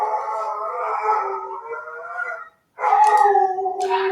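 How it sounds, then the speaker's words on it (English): Several dogs howl in long, loud, sustained wails that break off briefly and then return even stronger, with no talk over them. "I seem to have some dogs howling"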